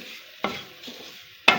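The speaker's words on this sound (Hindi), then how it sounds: "थोड़ा सा इसका गोल्डन कलर जब हो जाए ना, तब तक हमने भूनना सूजी को" Semolina being stirred and dry-roasted in a pan for suji barfi, with soft scraping and a faint sizzle, plus two distinct spoon strikes against the pan about a second apart.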